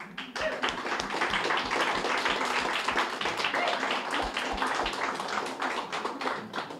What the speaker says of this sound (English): I just want to have another big round of applause for everybody here.